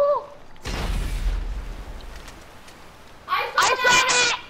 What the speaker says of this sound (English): shoot rockets directly at where I am